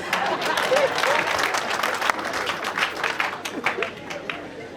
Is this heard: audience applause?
yes